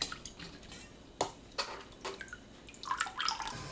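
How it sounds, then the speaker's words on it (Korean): Shredded dried squid being rinsed lightly by hand in water, with quiet splashes, drips and a few clinks against a bowl, faint and close, with no speech. "물에 가볍게 헹궈냅니다"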